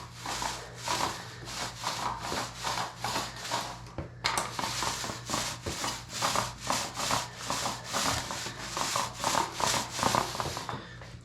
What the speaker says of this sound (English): start rolling until there's an even thin layer